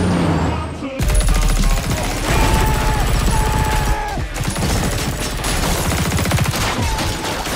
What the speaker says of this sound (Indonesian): langsung terjadi aksi tembak-tembakan